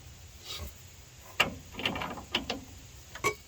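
Socket wrench ratcheting on a car bolt during parts pulling from a flipped junkyard car, heard as a few sharp, separate metallic clicks and clacks at close range against a quiet background.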